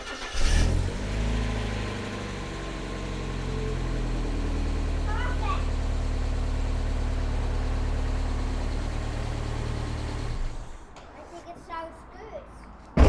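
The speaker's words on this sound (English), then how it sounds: "let's just start the engine and see how it sounds now" A Mazda MX-5 engine with a misfire starts and runs with an uneven, lumpy idle for several seconds, then cuts out; brief voices near the end.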